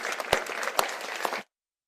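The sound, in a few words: audience applause at fly fishing championship ceremony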